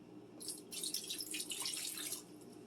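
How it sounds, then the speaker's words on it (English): Water pours from a mug into the bottom of a roasting pan, a short, soft splashing trickle in a quiet kitchen that lasts under two seconds. "I'm going to pour the water in the bottom of the pan."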